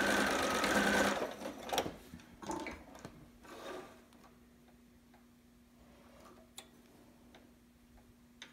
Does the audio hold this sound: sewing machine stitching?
yes